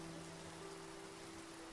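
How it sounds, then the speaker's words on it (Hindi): A steady hiss of heavy rain, a sound effect in a Hindi horror story, runs quietly and evenly with no voices over it. "अचानक से तेज से बारिश होने लग पड़ी।"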